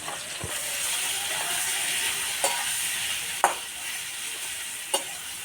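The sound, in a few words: chicken frying with onions and chilli powder in a pan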